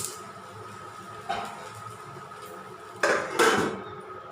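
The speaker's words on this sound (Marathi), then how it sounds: "आणि सगळी बारीक केली आता आणि 5 मिनटं झाकून ठेवते बघा वाफेवर" Metal lid set down on a pan of sabudana khichdi on the stove, giving a faint clink followed by two louder close clattering knocks against the pan rim over quiet background hiss.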